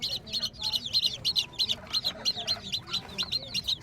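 A batch of young chicks makes a fast series of high, close chirps in a steady rhythm, with a voice talking faintly underneath.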